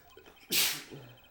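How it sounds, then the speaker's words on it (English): One short, sharp sneeze bursts out in a quiet setting in the Phoenix Wright game, preceded by a faint breathy intake and followed by a soft trailing sound. "Stop sneezing!"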